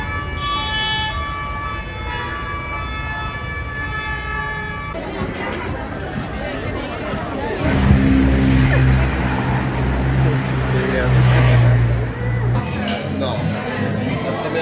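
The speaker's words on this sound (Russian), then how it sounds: "Движение в Париже вечером." Evening street traffic in Paris: cars pass with a steady roar, a horn toots, and an emergency siren wails nearby, while voices talk over the din.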